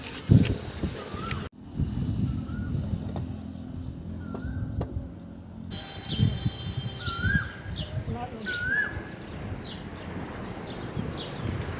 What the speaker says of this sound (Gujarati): કોયલ કેવી મસ્ત બોલે છે